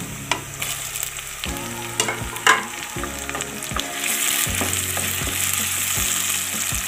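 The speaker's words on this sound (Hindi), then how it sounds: "अब मैं डाल दूँगी इसमें टमाटर।" Tomatoes hit a hot pan for a potato and radish pod curry, sizzling steadily with sharp spatula taps and stirring scrapes, close and clear with no talking.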